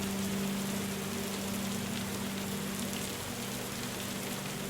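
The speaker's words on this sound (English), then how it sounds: "Oh, look at that, more rain" Steady rain falls in the survival video game Cataclysm: Dark Days Ahead, an even, continuous hiss with a low hum underneath and no voices.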